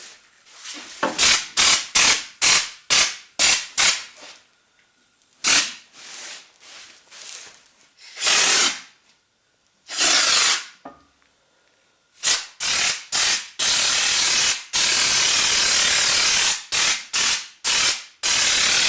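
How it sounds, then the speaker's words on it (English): Aerosol rust-proofing spray hissing onto the underside of a 25-year-old 4x4 van, in repeated short bursts, then longer continuous blasts toward the end, loud and close with no talk. "I'm going to do a bit of rust proofing while I wait."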